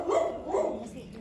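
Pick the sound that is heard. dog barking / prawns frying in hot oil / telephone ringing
dog barking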